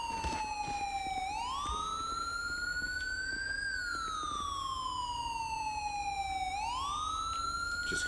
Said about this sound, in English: Just going to turn my siren off